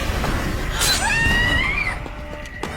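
A woman in a horror film lets out a loud, rising scream while fleeing a masked killer. The single cry stretches over about a second against a noisy background.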